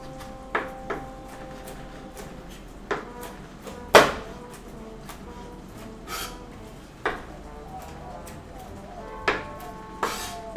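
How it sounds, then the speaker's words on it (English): A knife rough-chops walnuts on a cutting board in a home kitchen, giving sparse, irregular sharp knocks and scrapes at close range over a quiet room background. "we're just rough chopping these nuts"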